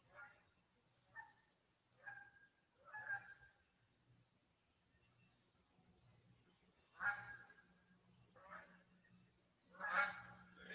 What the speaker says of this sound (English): They got some honkers going overhead